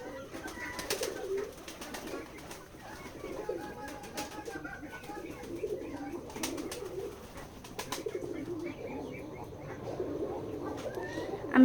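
Many pigeons coo continuously at a pigeon farm in Betikhola village, Keshabpur, Jessore, a dense, steady chorus of low throaty coos with occasional wing flutters, moderately near and without talk.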